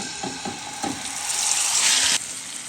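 Marinated hilsa fish dropped into hot oil with bay leaves, sizzling steadily and swelling into a loud broad hiss before it abruptly cuts back down, with light stirring clinks near the start.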